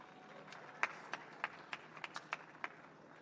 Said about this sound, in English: Another round of applause for the TAJ.